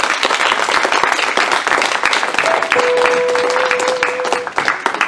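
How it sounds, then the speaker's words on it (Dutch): Dense, sustained audience applause and clapping fill a concert hall during a live tribute show, steady and loud throughout, with a faint held tone briefly audible underneath. "Even een geweldig applaus."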